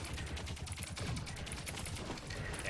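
Rapid gunfire in the video game Code ZIN, a steady dense rattle of shots at moderate loudness running through the whole moment, with no talk over it.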